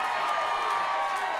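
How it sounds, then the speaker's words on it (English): A sold-out wrestling crowd at the Park Theater roars and cheers during a fatal four-way Cruiserweight title match, a steady dense wash of voices heard from within the venue. "it's obvious by this crowd reaction"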